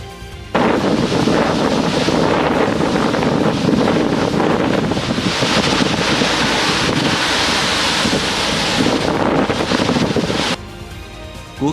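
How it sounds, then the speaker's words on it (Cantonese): Cyclone Tauktae's storm winds and heavy surf on the Gujarat coast, a loud continuous roar of wind buffeting and crashing waves lasting about ten seconds before cutting off abruptly, no talking. "圖特每小時風速達200公里，掠過阿拉伯海，為古吉拉特邦沿岸帶嚟暴雨"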